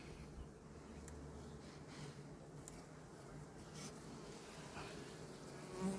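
A honeybee colony hums at an open hive, a faint, steady, continuous buzz throughout with no talk.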